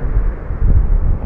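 Heavy rushing wind in the horror game Ao Oni, a loud low-pitched roar that dips briefly then surges back, continuous and unaccompanied by speech.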